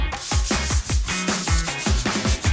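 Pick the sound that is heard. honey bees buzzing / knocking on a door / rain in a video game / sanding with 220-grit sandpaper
sanding with 220-grit sandpaper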